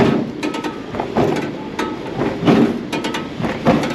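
Repeated dull thuds of coffee beans being pounded in a stone mortar, steady and fairly close, with overlapping clatter and a busy street background in Mardin, Turkey.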